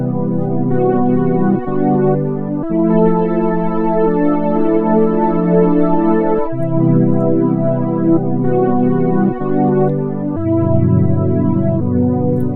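One-shot kit chord sample playing a simple, slow chord progression with a few transitional notes, warm sustained tones, clear and alone.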